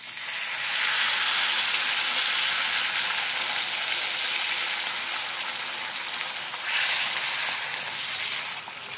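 Hot water poured into frying masala for a suran (elephant foot yam) curry, a loud, continuous hissing sizzle and steam that swells near the start and again briefly toward the end, without talk.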